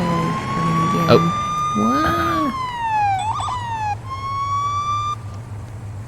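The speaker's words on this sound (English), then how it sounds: "they were already stopped because I had my sirens on" Police car siren in the Police Simulator: Patrol Officers video game, loud and close: a wailing tone sweeping up and down, then switching to a faster yelp, over a low engine hum, with a brief spoken exclamation.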